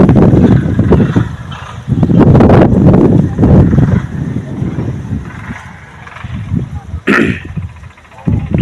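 A strong wind storm sweeps across a farm field, loud gusts buffeting the microphone with a deep, rushing roar that surges and eases in waves, and a sharp crackle near the end.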